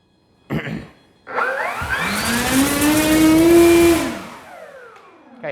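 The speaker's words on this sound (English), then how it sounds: "I'm just gonna really carefully" The electric motor of a 60-inch Hangar 9 Ultra Stick RC airplane throttles up to a loud, rising whine with propeller whir, holds for a couple of seconds, then winds down, after a brief short burst at the start.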